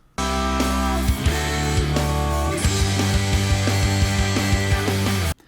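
Backwards-sounding sung passage from a Christmas song at the five golden rings, a dense stretch of reversed-sounding voices over steady music, played alone for a few seconds.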